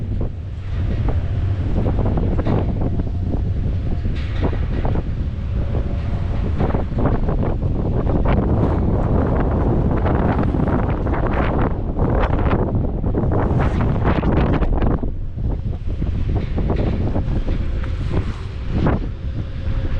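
Strong wind blowing at Buffalo Bill Dam, a loud continuous roar buffeting the microphone with gusting swells and a faint tonal whistle, with no pause for the full duration.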